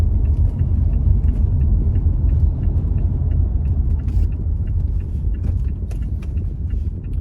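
A car driving through erratic city traffic: a steady loud low rumble of engine and road noise inside the vehicle, with faint ticking above it and no speech.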